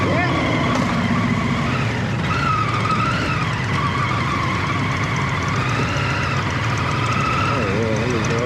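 Indian FTR1200 R Carbon motorcycle with a 1200cc liquid-cooled twin engine running steadily and loudly throughout, a continuous close engine drone with shifting tone and a rider's voice talking over it.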